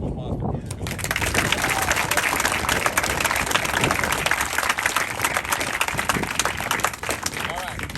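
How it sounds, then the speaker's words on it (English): Audience applause at a high school freshman award ceremony, dense sustained clapping from a crowd that swells quickly and continues steadily throughout, with voices mixed in. "So round of applause for Coach Gilby."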